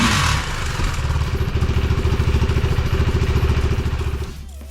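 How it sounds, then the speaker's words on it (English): A KTM RC 390 sport motorcycle fitted with an aftermarket Coober header idles up close, its single-cylinder engine thumping in a loud, steady, rapid pulse with a raspy edge before cutting off at the end. "I didn't realize that the header was going to make that much of a difference in sound."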